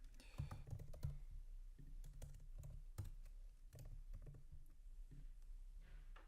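Typing on a computer keyboard to sign in to a Liferay web app, with quick irregular key clicks in short bursts, close and quiet, with no talking.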